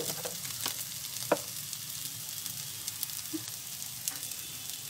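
Sooji upma sizzling softly in a pan with desi ghee, a steady low crackle with a few sharper pops and scrapes, close by and without voices.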